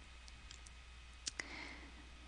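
Keystrokes on a computer keyboard as a short title is typed, a few faint scattered clicks in a quiet room followed by two sharper taps close together.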